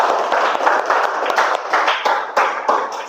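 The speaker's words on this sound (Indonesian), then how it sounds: "Oke, tepuk tangan untuk kelompok" A classroom of students applauds a student group, steady dense clapping for about three seconds with no voices over it.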